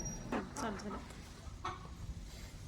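Two laying hens cluck in a few short bursts close by as they are packed up, over a low background rumble.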